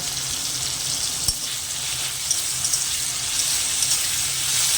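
Poppy seeds fry in hot oil for a spiced eggplant dish made with onion and garlic, giving a steady close hiss and sizzle with a single sharp click early on.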